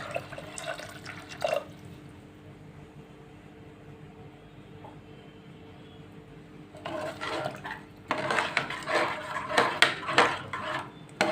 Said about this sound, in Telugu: ఇందులో తగినన్ని నీళ్ళు వేసుకుందాం.